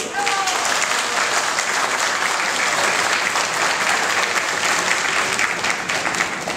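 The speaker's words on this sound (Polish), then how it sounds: "Brawa dla braci spadochroniarskiej!" A crowd at the opening assembly of a commando festival in Dziwnów applauds paratroopers with sustained, even clapping from many hands that stays loud and unbroken, a voice briefly audible at the very start.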